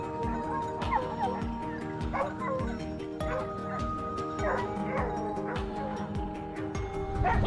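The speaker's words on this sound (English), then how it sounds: "The hound's barking quickly guided Nick's hurried footsteps forward." A hunting hound chasing a wild boar gives many quick, excited barks and yips, some whining, in a rapid, uneven run over a busy outdoor background.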